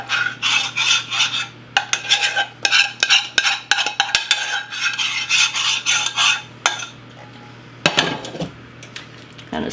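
A spoon scrapes and spreads broccoli macaroni and cheese around a baking dish, giving a near, steady run of wet scraping and stirring strokes with sharp clinks against the dish.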